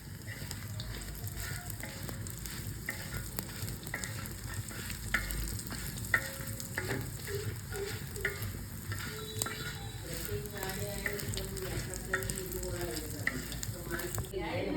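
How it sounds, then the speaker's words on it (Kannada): Cardamom, fenugreek, cumin and coriander seeds fry in ghee over a low flame, a steady soft sizzle with scattered crackles and the occasional scrape of stirring throughout, close and even with no talk. "ಇದಕ್ಕೆ 1 ಸ್ಪೂನ್ ತುಪ್ಪ ಹಾಕಿ ಲೋ ಫ್ಲೇಮಲ್ಲಿ ಫ್ರೈ ಮಾಡಬೇಕು."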